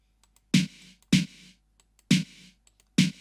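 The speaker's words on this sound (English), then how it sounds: "So once again, I have the Waves H reverb, that 80s snare preset." Snare drum processed with the Waves H-Reverb 80s snare preset, gated reverb with low end cut and a 2 kHz boost: four sharp, loud isolated hits, each with a short bright burst of reverb that stops abruptly.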